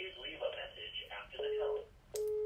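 A house landline telephone rings indoors, its electronic tone pulses repeating close and clear with a brief gap between bursts, over faint room background.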